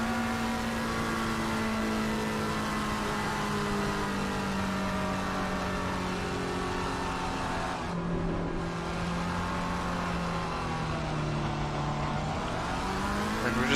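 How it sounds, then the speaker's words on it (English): A GT3 race car in Assetto Corsa Competizione works up tyre heat on track, its engine a continuous loud whine that dips with a gear change partway through before rising again, with no voices. "You can see here Frank just trying to get some heat into the tyres"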